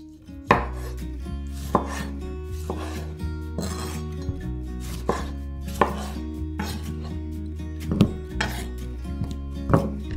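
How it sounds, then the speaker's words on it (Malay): A knife cuts tomatoes coarsely on a board for Pakistani biryani, with about a dozen distinct, unevenly spaced chops close by, each a sharp thud against a low steady background, and no voices. "Tomato potong kasar sebab nanti kita nak kisar halus."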